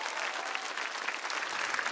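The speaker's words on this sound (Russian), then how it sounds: "Но мы провожаем его аплодисментами." Audience of the Russian TV singing contest Nu-ka, Vse Vmeste applauding a departing finalist, a thick, continuous wash of clapping from a large crowd, loud and unbroken.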